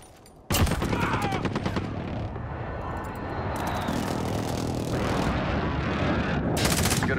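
A called-in fire strike lands in a military shooter game: after a brief quiet start, a sudden loud blast opens into rolling, rumbling explosions and crackling fire, with an aircraft-like whine and faint voices underneath.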